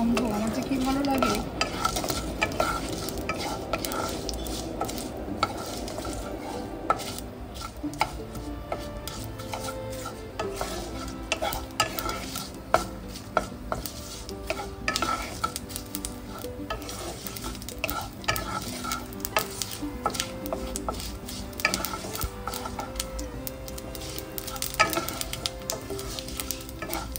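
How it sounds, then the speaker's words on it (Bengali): Curry leaves spluttering and sizzling in hot oil for a coconut chutney, a steady crackling fry with frequent sharp pops and stirring scrapes running close and continuous throughout, with no talk. "দেখো ছিটছিট আওয়াজ করছে ফুটফুট করে।"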